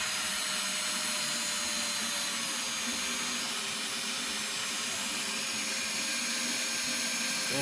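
A cordless power drill in drill mode whirs steadily during a Ryzen 3900X PC build, with a continuous, fairly loud motor drone lasting several seconds and no talk over it.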